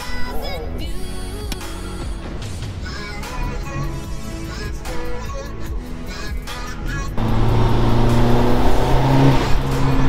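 A tuned Seat Ibiza 6L 1.9 TDI engine is driven hard, its diesel drone growling through the cabin, then surging noticeably louder as the car accelerates near the end.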